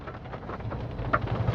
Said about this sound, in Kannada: ನೋಡಿ ಎಷ್ಟು ಮಳೆ ಬರ್ತಾ ಇದೆ